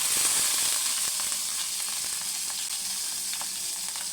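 Chopped green chillies and cumin seeds sizzle in hot oil for tempering, a steady, close, bright crackle that stays even throughout, with no voices.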